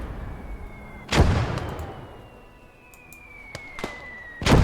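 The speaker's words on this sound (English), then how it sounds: "That's the mortar. Still firing." Mortar rounds fire in a combat scene, three sharp broadband blasts spaced a few seconds apart over steady background rumble, with a faint high whine drifting through.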